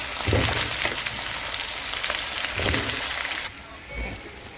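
Potatoes fry in a pan with a steady, crackling sizzle that carries on throughout, close and fairly loud, with a few louder spatters.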